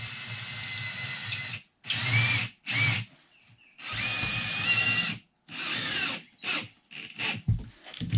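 A power drill drives specially coated fasteners into boards for a penny tile wood stove hearth, firing in several loud whirring bursts separated by short pauses, close up and with no talking.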